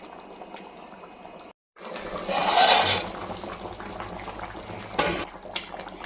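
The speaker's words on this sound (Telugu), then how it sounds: "చేపల పులుసు అయితే మంచిగా ఉడుకుతుందండి." Fish curry bubbles in a pot on the stove, a soft close simmer of popping and gurgling after a brief silent gap, with a few louder bursts.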